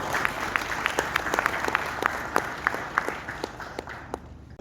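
A conference audience at a manufacturing event in a Kuala Lumpur hotel applauds a panel speaker, moderate steady clapping with a few distinct close claps standing out, tapering off at the end.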